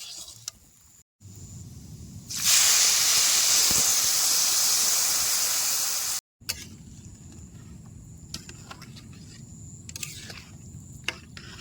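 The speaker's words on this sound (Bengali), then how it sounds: "এবারে জল দিয়ে দেবো" Water poured into a pan of frying vegetables, dal and dalia erupts into a loud rushing steam hiss for several seconds, then settles back to a softer simmering crackle.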